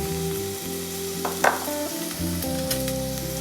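Two chopped medium onions frying in coconut oil, a steady close sizzle with a few stirring scrapes and clinks of the spoon.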